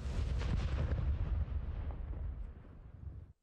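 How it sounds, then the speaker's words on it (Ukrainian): A powerful blast from a demolition charge detonating a landmine erupts with a deep, rumbling roar that slowly fades over a few seconds before cutting off abruptly. "Цей вибух не забрав життя воїна чи мирного жителя"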